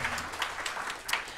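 A short burst of audience applause at a climate symposium in Auckland, steady scattered clapping from a crowd at moderate volume.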